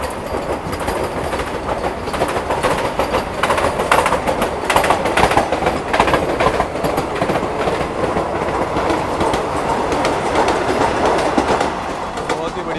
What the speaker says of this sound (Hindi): ये देखो वंदे भारत जा रही है सामने से 20902